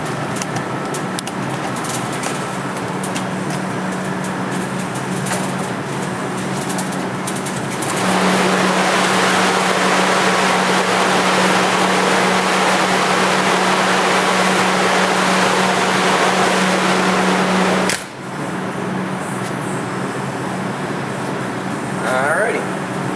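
An engine fitted with twin ProCharger superchargers and a blow-off valve revs up and holds a loud, sustained high-rpm whine for about ten seconds, then drops off abruptly, with idling before and after.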